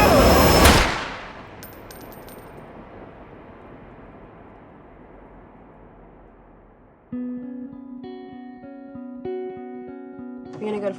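Gunfire at Fruitvale opens with one loud, sharp blast that rings out and decays over several seconds, followed by quiet and then music.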